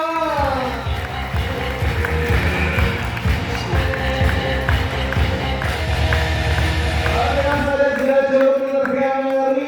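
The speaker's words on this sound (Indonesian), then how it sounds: "biar semangat, biar kompak, tepuk tangannya berirama." Safari park visitors clap in steady rhythm as a crowd, the beat running continuously over tonal sounds and background voices, loud and close throughout.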